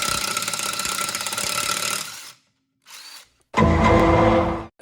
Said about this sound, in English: So I got those 6 holes drilled out to the 1/4 inch diameter